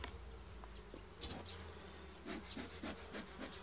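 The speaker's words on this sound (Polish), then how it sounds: "Fajna pszczoła, widzicie, nawet nie wychodzi za bardzo" Caucasian honeybees buzz faintly at an opened hive in spring, with soft scraping and rubbing of wooden frames and intermittent louder buzzing close by.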